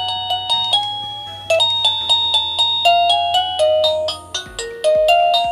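Rebluu wireless doorbell chime stepping through its tones, a quick run of bright electronic ding-dong melodies repeating and changing pitch, loud and close with no voices.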